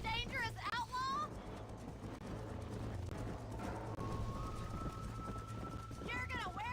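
Horse hooves in a video game pound in a steady, continuous gallop, heard up close under game voices and background sound.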